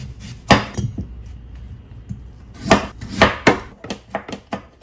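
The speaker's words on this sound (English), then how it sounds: "Next up is our sweet potato. We're just peeling it and then we're going to cut them into strips." Sharp knife strokes chopping a peeled sweet potato into strips on a board, a few spaced thuds followed by a quicker run of cuts, close and fairly loud with no talking.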